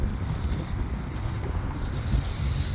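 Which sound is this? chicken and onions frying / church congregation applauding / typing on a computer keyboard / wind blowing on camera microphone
wind blowing on camera microphone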